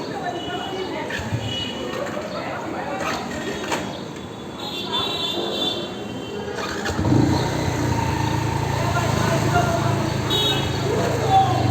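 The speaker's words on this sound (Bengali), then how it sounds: "নিউট্রাল করে স্টার্ট দেন।" A motorcycle engine kicks into life during a bike riding lesson in Uttara, Dhaka, then settles into a steady close idle with light revving, while an instructor and rider talk over it.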